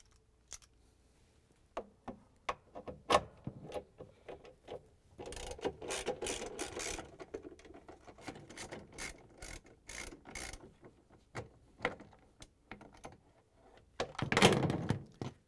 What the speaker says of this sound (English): It has three 3/8 bolts that we're going to take out using the socket wrench.